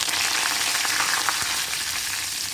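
Mustard seeds, fennel, cumin and curry leaves fry in hot oil for a banana-plantain stir-fry, giving a steady, close crackling sizzle with occasional sharper pops and no voices.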